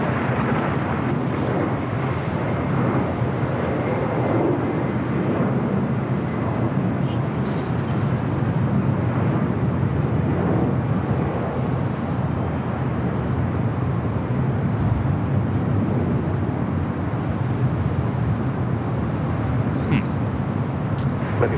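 A Delta airliner takes off from runway 25 right at LAX, producing a loud, continuous broadband jet roar with wind buffeting that holds steady throughout.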